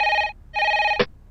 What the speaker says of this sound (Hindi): आपके लिए फोन है